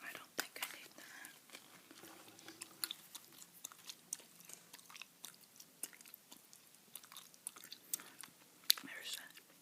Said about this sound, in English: a bubblegum I'm chewing today, by the way. Sugar-free bazooka bubblegum.